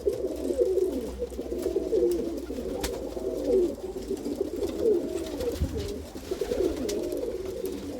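Pigeons or doves in an aviary coo steadily in overlapping low, rolling calls that run the whole time, close by, with no talking.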